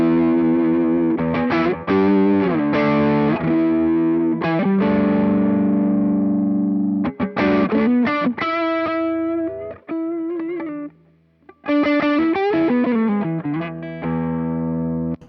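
A Stratocaster electric guitar rings out through a distortion effect, with a run of sustained chords and single notes broken by short pauses and picking attacks, loud and close with no voices.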